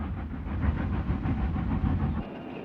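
Rhythmic rumbling and clatter of a moving train, dense and steady for most of the stretch before dropping off abruptly near the end, with no voices over it.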